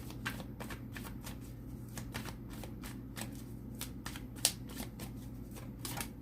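Tarot cards being shuffled by hand in a quiet room, a steady run of crisp riffling snaps and flutters with one sharper slap near the end, close and clear with no talk.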